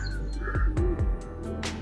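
Pigeons coo softly from their nest holes in a famous Bengaluru garden, a few low, swooping murmurs repeating over a steady background hum.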